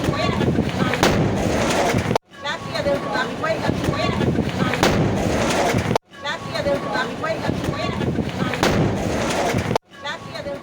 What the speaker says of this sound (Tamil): சாலையோர கடையில் வெடித்து சிதறிய சிலிண்டரால் பரபரப்பு ஏற்பட்டது